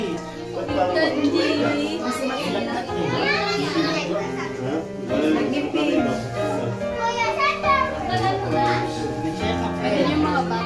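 Children playing and chattering together in a lively, continuous jumble of young voices, close and loud throughout with overlapping shouts and talk.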